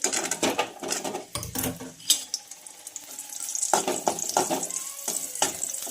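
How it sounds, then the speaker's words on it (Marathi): Garlic fries in a spoonful of hot oil in a pan, a steady sizzle broken by sharp clinks and scrapes of a spoon stirring against the metal. "सर्वप्रथम यामध्ये आपल्याला लसूण घालायचा आहे आणि छान तो परतून घ्यायचा आहे"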